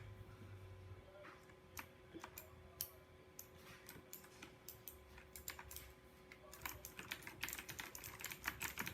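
Clicks from a Razer computer keyboard, rendered as a series of quiet, crisp individual key taps that quicken into a denser flurry toward the end, heard close up over a faint steady hum with murmured talk.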